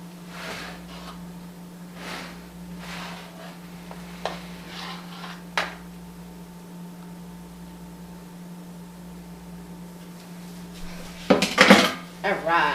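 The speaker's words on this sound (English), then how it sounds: "Just gonna scrape all of that off." A spatula scrapes out a metal pan of pineapple upside-down cake batter in short scraping strokes and light clinks over a steady hum, ending in a louder clatter of the pan.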